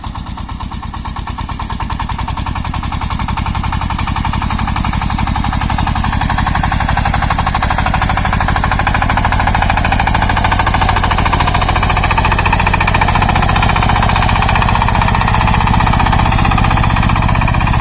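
Tractor engine pulling a disc harrow through a garden plot, revving into a loud, rapid, steady chugging close by that holds for the whole stretch with no talk.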